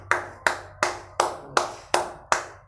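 Seven sharp hand claps at an even, steady pace, each one crisp and close with a short ringing decay, with nothing else sounding in between.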